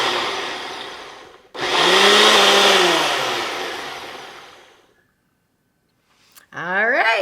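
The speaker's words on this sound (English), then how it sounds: "put this into the blender and we're gonna turn it on" A blender whirs loudly through homemade Caesar dressing, starting abruptly, rising in pitch, then winding down and stopping, followed by brief silence and a beep-like tone before a voice begins talking.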